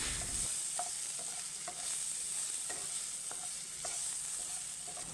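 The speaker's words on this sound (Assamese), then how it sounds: "এইখিনি অলপ লৰাই ভাজি থাকিম" Steady sizzling of turkey berries frying with periodic scraping and clinking as a utensil stirs in a pan, no voices.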